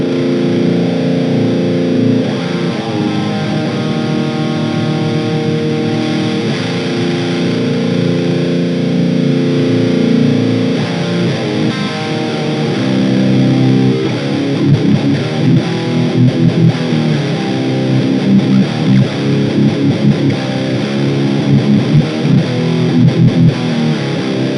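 Distorted electric guitar through a Hotone Ampero amp modeler into a Pulze modeling amp, playing chords and riffs with heavy overdrive, loud and continuous with no talking.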